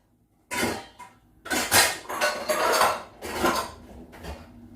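Dishes and cutlery clatter as they are sorted in a home kitchen: several loud bursts of clinking plates and rattling silverware, close by, with short pauses between them.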